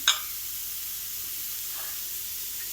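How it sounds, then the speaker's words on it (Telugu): Onions and tomatoes fry in a spoonful of oil for a paneer curry, a faint steady sizzle and hiss after a brief sharp burst at the start. "ఆనియన్ టమాటోస్ ఫ్రై చేసుకుందాము."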